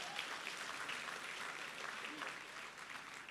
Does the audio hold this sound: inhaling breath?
no